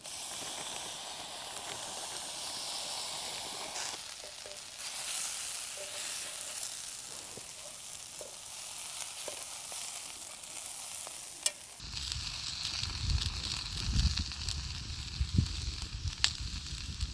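Sausage and potatoes frying in a pan at a chilly winter campsite, a steady soft sizzle and hiss with occasional stirring scrapes, then a louder crackling, rumbling stretch near the end.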